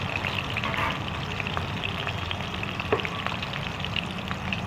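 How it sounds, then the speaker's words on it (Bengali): Potato pieces seasoned with salt and turmeric fry in hot oil, giving a steady, close sizzle with scattered small pops and the occasional stir. "আর আলুটা ভাজা পর্যন্ত লাল লাল করে ভেজে রাখবো।"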